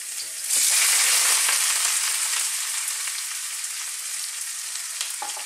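Roughly sliced garlic and onion hit hot oil and burst into a loud, steady sizzle that holds with little change, with a few faint clicks near the end and no talking.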